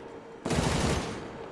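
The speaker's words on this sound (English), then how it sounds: "lead tank's firing. We're going to open up too." Heavy gunfire erupts in a tank video game set in an alternate-history Second Korean War, a loud sustained burst of tank and machine gun fire that starts abruptly after a quiet moment and rolls on dense and rumbling.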